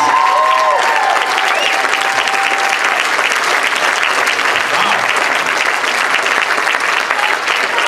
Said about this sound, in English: give these people a big round of applause